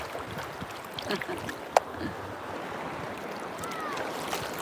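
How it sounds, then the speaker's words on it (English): Splashy waves in the Gulf of America wash and slosh around continuously at moderate distance, with a brief sharp splash standing out, softly under a faint breezy background. "You gotta get away from these waves though, because they get splashy, splashy."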